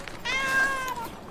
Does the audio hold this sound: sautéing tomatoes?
no